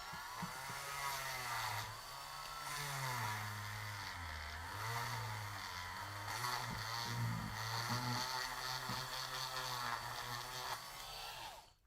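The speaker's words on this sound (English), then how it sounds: "let's try to drill this out again" A power drill whines and bogs as it bores into plastic, its pitch dipping and rising in uneven bursts, close up and continuous.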